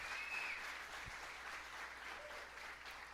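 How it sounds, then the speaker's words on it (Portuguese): A church congregation applauds in steady, continuous clapping, a dense wash of many hands heard at moderate distance and fairly soft level, with a brief low thump midway and no speech over it. "pode aplaudir Jesus aí?"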